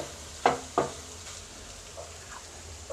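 Egg for egg rice fries in a pan with a soft steady sizzle, broken by two sharp spatula knocks near the start and a few lighter scrapes later.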